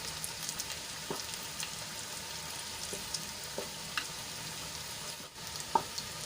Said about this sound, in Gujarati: તો અહીંયા સાઈડમાં તેલ છે એમાં આપણે આને થોડી વાર માટે સાંતળી લઈશું।